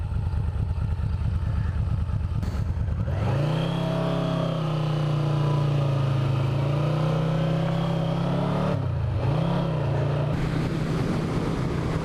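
A Yamaha V Max motorcycle engine revs hard while riding, a deep, loud, close drone that climbs and holds steady, with a brief dip as the throttle shifts before it pulls again.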